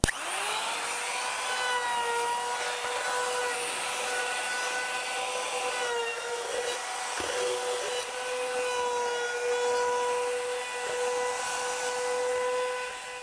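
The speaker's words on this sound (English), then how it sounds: "I want to hit it with an 1/8 inch round over bit just to ease the edges" Wooden edges of a small tool tote being eased with a router fitted with a 1/8 inch round-over bit, a steady loud high whine that runs continuously with a brief dip partway through, no talking.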